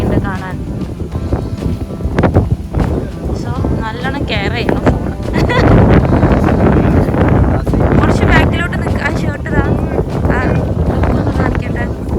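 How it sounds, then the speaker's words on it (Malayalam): Steady wind buffets the microphone in a continuous roar at Uluwatu temple in Bali, with a person talking over it throughout. "നല്ലൊരു കാറ്റുണ്ട് ഈ ഏരിയ നല്ല ഭംഗി"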